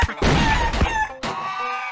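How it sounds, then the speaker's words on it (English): A golden goose in the video game Bird Assassin gives two squawking, honk-like cries. They are loud and close, with a brief gap between them. "Ah, golden goose."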